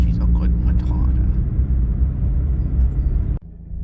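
The car Matata is being driven to warm up her engine, giving a steady, close low rumble that cuts off abruptly near the end.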